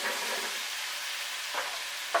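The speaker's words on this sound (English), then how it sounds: "Now I'm going to toss in my potatoes." Potatoes tossed into a hot frying pan give off a steady, fairly quiet sizzle, with a couple of brief scraping stirs near the end.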